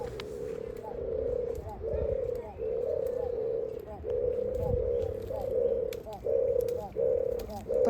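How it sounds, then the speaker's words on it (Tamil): Two or three pigeons in a zoo cage coo repeatedly in soft, rhythmic bursts, a steady sequence of low hooting calls over quiet outdoor background. "புறா ரெண்டு மூணு புறா இருந்தது அந்த கூண்டில்"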